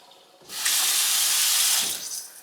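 Soybeans rinsed in a colander under running filtered tap water: a close, loud rushing stream swells in, holds for over a second, then fades.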